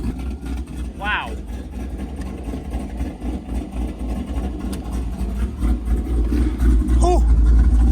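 600-horsepower LS-swapped Volvo 244 engine running loud and rumbling close by, with people talking excitedly over it.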